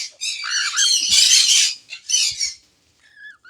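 A conure chick gives repeated loud, harsh squawks, close by, in several bursts with brief pauses, then a few thinner calls at the end.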